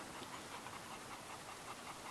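Dogs resting in a down-stay during a training class pant steadily, a soft continuous breathy rhythm heard faintly and close, with no talk.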